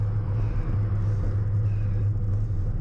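A vehicle convoy passes a cyclist during a road race, a loud, close, steady engine rumble and road roar that continues without a break.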